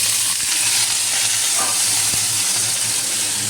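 Panch phoron spices sizzling and crackling in hot oil in a pan while potato curry is prepared, a steady loud hiss with faint stirring taps, no talking.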